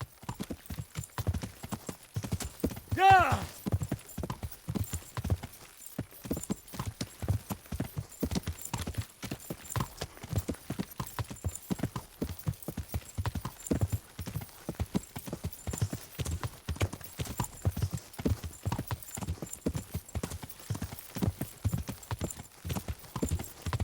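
In the video game Kingdom Come Deliverance, a horse being ridden clip-clops along in a steady, rhythmic run of hoofbeats that carries on throughout. The sound is fairly quiet and close, with a brief whinny early on.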